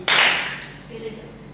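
A single sharp hand clap in a classroom guidance lesson, loud and crisp at the start, then fading into quiet room sound.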